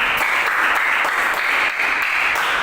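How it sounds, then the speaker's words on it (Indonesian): Applause from a classroom audience fills the room with dense, continuous clapping at steady volume, close by and without a pause. "Tepuk tangan, tepuk tangan"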